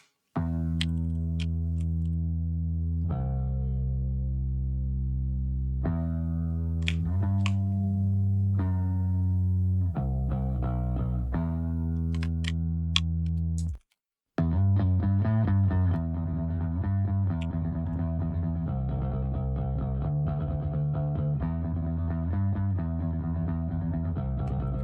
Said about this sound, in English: So let's have a listen to the bass sound.